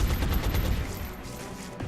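Rapid gunfire aimed at a sectoid in XCOM Long War crackles in a dense, continuous burst, loud and close, easing slightly toward the end with no voices.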